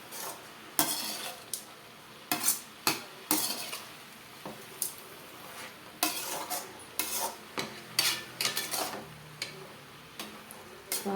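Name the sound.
stirring greens poriyal in a pot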